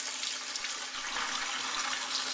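Water from a tap runs steadily into a bucket of shrimp being rinsed in salted water, a loud continuous splashing rush with no pauses.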